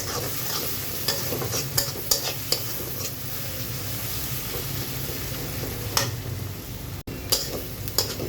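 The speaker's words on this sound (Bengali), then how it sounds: "পেঁয়াজটা কিন্তু আমার মোটামুটি ভাজা হয়ে গিয়েছে" Onions fry in a pan for a spiced beef brain dish, a constant close sizzle broken by repeated sharp scrapes and clicks of a spatula stirring against the metal.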